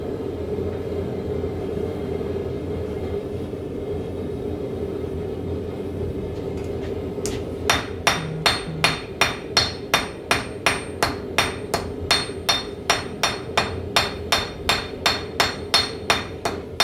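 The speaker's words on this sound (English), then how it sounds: "I'm going to go ahead and move over to the small hammer" A small blacksmith hammer strikes hot metal while forging decorative leaves. After a stretch of low background rumble, sharp ringing blows begin and continue in a steady rhythm of about twenty hits, close and loud.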